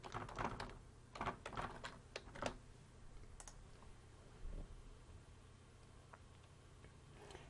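Password being typed on a computer keyboard while setting up a NetApp SAN console: bursts of quick, close key clicks at the start, then sparser taps fading into a quiet room, with no talking.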